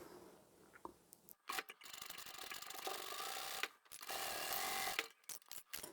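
Sewing machine stitching a seam on a fabric book bag, running in several bursts of steady mechanical whirring separated by short pauses.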